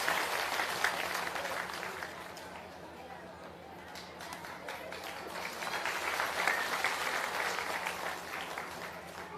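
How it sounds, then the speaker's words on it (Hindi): Sustained applause from a village rally crowd at a school in Pratapganj block, dense clapping that dips briefly midway and swells again, with chatter mixed in underneath. "एक बार जोरदार ताली बजाइए आदरणीय प्रसाद जी"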